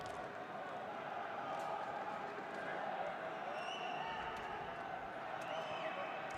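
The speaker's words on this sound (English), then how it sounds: "Fans in the crowd absolutely delighted." Football stadium crowd at an AFC Champions League Two match in Tehran, Esteghlal against Al Hussein, roaring steadily after a goal, a dense sustained wash of fan noise with scattered whistles and shouts throughout.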